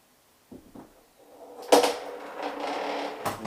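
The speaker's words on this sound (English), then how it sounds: "I'll open this door as well" A cabinet-style door clicks and swings open nearby, followed by a sharper knock and a brief rattle, with quiet pauses between.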